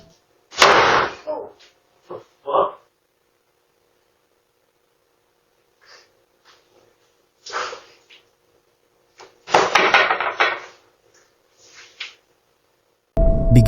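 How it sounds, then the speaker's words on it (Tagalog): A door slamming shut loudly indoors in a quiet room where someone sleeps on a couch: several sharp thuds separated by silence, then a sudden final bang. "Biglang malakas na sumara ang isa sa mga pinto."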